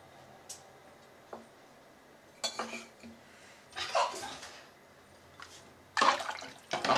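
A spoon stirs a tomato rice mixture, tinted with jalebi colour powder and turmeric, in a cooking pot, giving sparse metallic scrapes and clinks that grow into louder rasping strokes near the end, with no talk.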